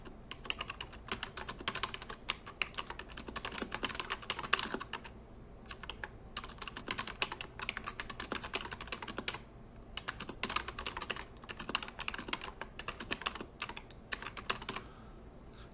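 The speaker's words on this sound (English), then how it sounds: "So I would go over here and I would type that in." Typing on a computer keyboard in a school computer lab, with bursts of quick, close key clicks separated by short pauses, steady and alone without talk.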